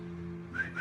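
A person tries to whistle, giving a faint, brief breathy whistle of two short high tones near the end over a low steady hum, with no talk.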